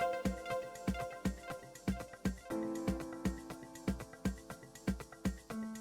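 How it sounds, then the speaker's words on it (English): Short synth plucks in an Afro House track sit inside a full electronic mix, repeating in a steady rhythm over punchy kick drums and sustained chords, clear and upfront. "Let's also add this pluck sound."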